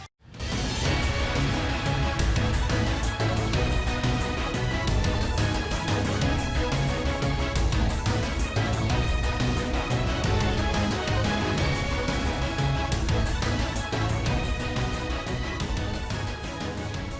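Character theme music for Trunks from the Dokkan Battle mobile game, a dense, loud full-band track playing continuously throughout without pause.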